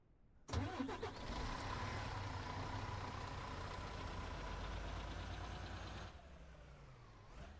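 A truck engine in the farming game Ranch Simulator starts with a sharp burst, then runs at a steady, loud, even drone for several seconds before dropping to a quieter idle, with no one talking.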